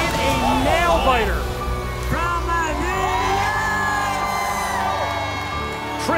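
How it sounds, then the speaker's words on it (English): A crowd at Newman University cheers loudly after the Commonwealth Cup ultimate frisbee final between Philadelphia and Pittsburgh, with sustained whoops, yells and shouting that stay at a steady level throughout. "the crowd goes nuts here at Newman University"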